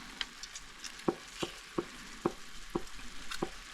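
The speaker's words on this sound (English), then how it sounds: "let them fry up for a bit" Food frying in a pan with a squeeze of lemon juice, a steady low sizzle broken by a run of sharp, evenly spaced pops and crackles close by, with no talking.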